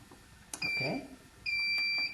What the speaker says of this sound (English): mute the alarm again